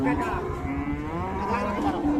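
A Friesian cow at a cattle market gives a close, loud moo, a long drawn-out low call that holds and wavers for about two seconds.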